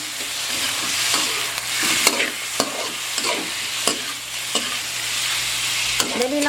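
Chicken sizzles in a pot while being stirred for Korean dakdoritang. Loud, continuous frying hiss comes with regular scraping stir strokes about every half second, and no voices are heard.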